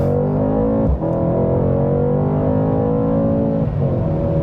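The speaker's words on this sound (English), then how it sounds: "I love the sound of it. And I hope you can hear it with the performance exhaust." A 2021 Mercedes-Benz C63S AMG V8 with performance exhaust in Sport Plus mode accelerates hard, its engine note climbing steadily and loud and close throughout, with a brief dip in the rising tone near the start.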